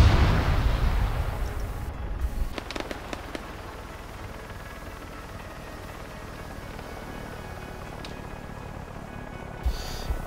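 Weapons fire in the Arma 3 video game: a cluster of loud, booming shots opens the passage, then gives way to quieter, scattered distant reports and low rumble.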